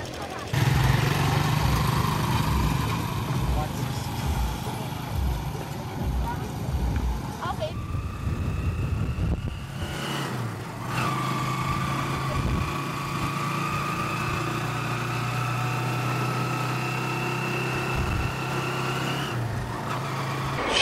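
Motorcycle engines idle nearby on Boracay Island, Philippines, with a steady low rumble, while people talk in the background.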